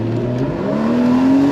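A race car engine accelerates hard, its loud, close, rising whine climbing steadily in pitch as it pulls away, with no talk.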